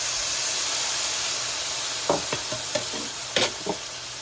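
Water poured into curry masala frying in a pan, setting off a loud steady hiss of sizzling and steam, with a few stirring scrapes toward the end and no voices.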